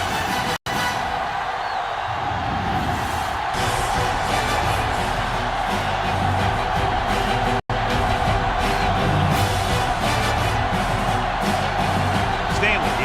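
A video game crowd at a Madden 08 high school football game between the Loris Lions and Aynor Blue Jackets roars continuously in the background while an announcer talks over it.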